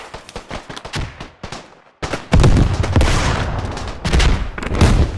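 Machine gun fire in the trench shooter Beyond The Wire: dense, loud bursts of rapid automatic shots, a sparser volley first, then a brief lull before a heavy sustained barrage that carries on to the end.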